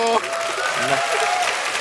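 Applause from a comedy show audience, a dense burst of clapping that starts abruptly and holds at full strength for under two seconds, with a voice briefly audible at the start.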